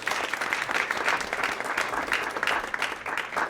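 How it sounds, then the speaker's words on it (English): Steady applause from an evening panel-discussion audience, continuous dense clapping close by with no voices over it, holding level throughout. "So a round of applause for Dominic, please."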